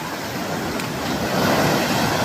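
Ocean waves on the Konkan coast wash in a steady, broad roar with some wind noise, swelling slightly toward the end, with no voices.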